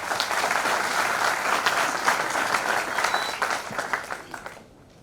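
Loud, dense applause from a seminar audience welcoming a speaker, steady clapping for several seconds before tapering off and fading out at the end.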